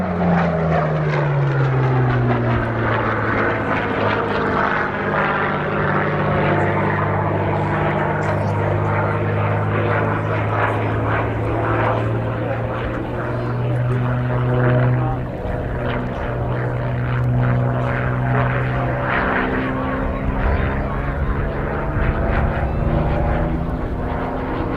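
A Curtiss P-40C Warhawk propeller fighter performs a flying display at Duxford, its piston engine droning loud and steady throughout with slowly shifting pitch as it passes, no talk over it.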